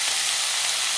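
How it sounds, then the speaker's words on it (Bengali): Spiny gourd (kakrol) frying in a pan gives a steady, dense sizzle, close and continuous with no talk. "কাঁকরোলগুলো ভালো করে ভাজতে হবে, খুব ভালো করে ভাজতে হবে।"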